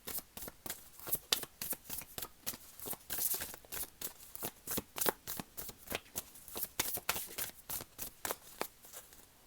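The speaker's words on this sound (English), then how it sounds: "let's pull some cards from the Oracle of the Seven Energies" Oracle cards being shuffled by hand, a quick run of crisp riffling and slapping bursts in an irregular rhythm, close and fairly soft, with no speech.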